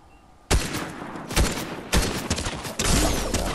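Fortnite gunfire erupts in sharp close bursts, several volleys of rapid shots cracking in quick succession.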